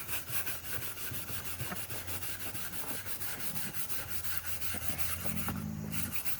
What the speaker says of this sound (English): all that's basically you're doing is rubbing off that black soot